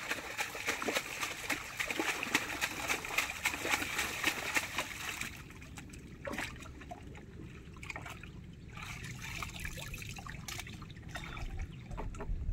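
Pond water trickles and splashes as it is let in and slapped by hand before releasing fish, a busy close sloshing that eases into quieter dribbles and drips over a low background.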